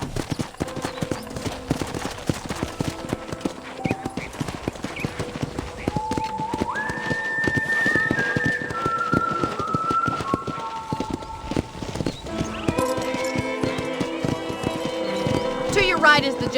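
Horse hooves clip-clop steadily while riding through a ranch in the video game Red Dead Redemption, a continuous rhythmic trot under game music with a voice talking throughout.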